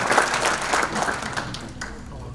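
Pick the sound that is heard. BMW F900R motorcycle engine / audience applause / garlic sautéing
audience applause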